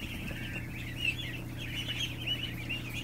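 Ducklings gathered on a floor keep up an unbroken wash of overlapping high-pitched peeps, fairly close, above a steady low droning hum.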